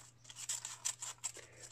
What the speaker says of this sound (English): As I chop down the middle, one piece of paper goes to one side and the other piece of paper goes to the other side.